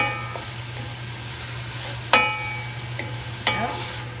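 Okra cooks in a pot with steamed cabbage and salt fish, a low steady simmer with a faint hum, broken by a few sharp clinks and scrapes of stirring.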